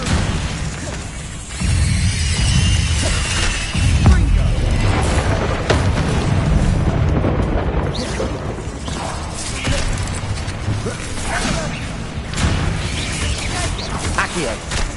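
Confringo fire spells burst repeatedly in Hogwarts Legacy combat, a dense, continuous wash of crackling blasts, pops and crashes layered with game noise over the whole stretch.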